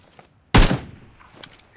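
A single sharp, loud gunshot cracks out in a video game and decays quickly, with faint voices before and after.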